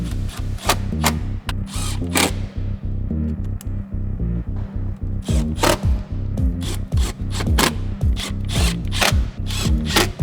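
Fender liner and wheel going back onto a BMW M2 F87 LCI, with loud, close bursts of a power tool whirring and rattling, broken by short pauses and quick scraping and clattering sounds.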